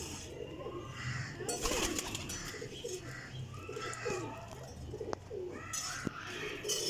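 Pigeons at a breeder's loft cooing repeatedly in low, throaty phrases, close and overlapping, with some rustling and faint chirps in the background.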